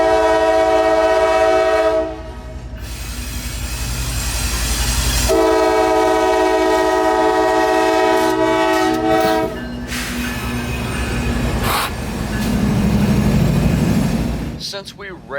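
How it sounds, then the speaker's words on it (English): Freight unit train bound from Bone Valley Yard rounding a curve in central Florida, a loud, long horn sounding in several blasts over the rumble and clatter of passing rail cars, with talk in the background. "the train in question rounded the curve"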